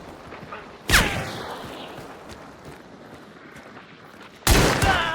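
Two sharp, loud gunshots from Hunt: Showdown ring out about three and a half seconds apart, each with a short echoing tail, over quiet ambient background.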